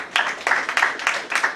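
An audience at a drama premiere applauds for the editor, Emmanuel Davis, with steady clapping that swells in repeated surges, fairly close and filling the room with no talk over it.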